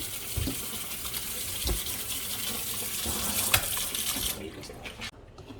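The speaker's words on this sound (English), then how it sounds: "I am running cold water over the pasta because I want it to stop cooking." Cold tap water gushing steadily over cooked lasagna pasta in a kitchen sink, close and even, with a few clinks before the flow cuts off near the end.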